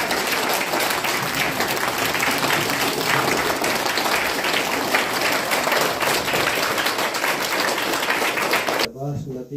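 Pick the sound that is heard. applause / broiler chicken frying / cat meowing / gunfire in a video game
applause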